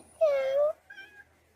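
A single close, clear meow rises and falls, followed by a softer, shorter second meow.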